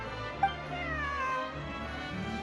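A cat meows in Genshin Impact, with a couple of short, soft mews standing out briefly over steady in-game background music.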